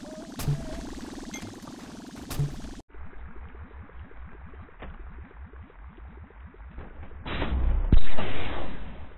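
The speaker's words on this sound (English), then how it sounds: "Oh, he's shooting!" Gunfire in Rec Room, a virtual-reality multiplayer game: a quick string of sharp shots rattling at a steady pace, moderately loud, with a denser burst near the end.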